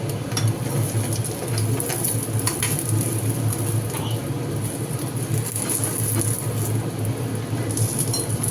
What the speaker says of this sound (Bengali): এবার এটাকে তেলের মধ্যে আমরা ভেজে নেব, দেখতেই পাচ্ছ।